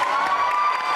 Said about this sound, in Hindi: एक बार फिर इन चारों के लिए बहुत सारी तालियां